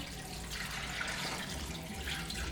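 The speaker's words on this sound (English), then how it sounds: "First, of course, we have the water." Three cups of water poured into a cooking pan before boiling pork, a steady, close splashing stream that runs continuously for a couple of seconds.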